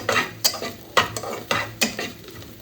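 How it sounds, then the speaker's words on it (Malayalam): Nigella seeds stirred in a pan for onion noodles, about six sharp scraping strokes of a utensil against the pan in a quick uneven rhythm over a low sizzle, close and alone. "ഞാൻ കരിഞ്ജീരകം എല്ലാം കൂടെ മിക്സ് ആക്കാം"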